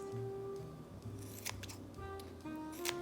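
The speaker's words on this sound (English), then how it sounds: "go in with our kitchen shears and just cut them in about 1/2 inch increments, just like this" Kitchen shears snip through rings of frozen calamari, giving several short, close, crisp cuts spaced unevenly over a few seconds against a low steady background hum.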